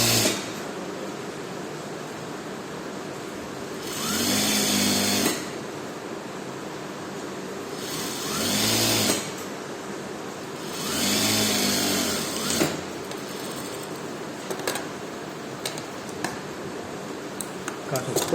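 A sewing machine stitches the second sleeve of a garment at a half-inch seam allowance, running in three bursts of steady mechanical whirring of a few seconds each, with quieter pauses and faint room noise between them.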